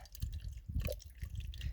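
Fresh mountain stream water trickling beside a winter trekking trail, a faint, steady babble with soft drips and splashes and no one talking.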